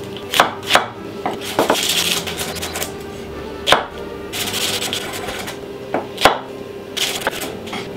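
A shallot chopped finely with a red knife on a board, giving sharp knife taps in short bursts and quick runs of rapid chopping, close and loud, with no talking.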